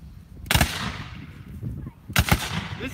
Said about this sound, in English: A solid volley of lead all the way down the line.